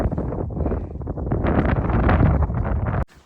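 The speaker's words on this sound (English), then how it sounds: "It's a nice day, but it's damn windy." Strong wind buffets the microphone outdoors on a long hike, a loud, rumbling, gusty roar that swells and fades before cutting off abruptly near the end, with no talk.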